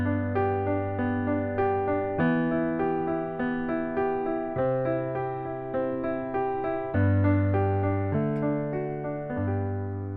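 Piano arpeggio pattern from a pop song, played slightly faster than the original: rolling broken chords in a steady, even rhythm with bass notes changing every couple of seconds, clear and close, with no voices.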